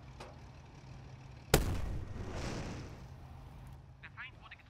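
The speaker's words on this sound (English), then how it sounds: "Fire, turret." A tank turret gun fires once in a WW2 strategy video game, a sudden loud cannon blast that rolls into a long fading rumble, with faint game sounds afterward.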